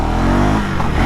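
A 2026 KTM Duke 390 or Triumph Speed 400 motorcycle pulls away in first gear in road mode with traction control on, its engine note loud and close, rising steadily over about a second with no voices.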